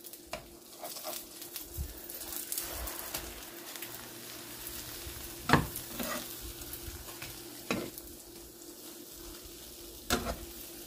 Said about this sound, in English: use the same spatula and flip the egg over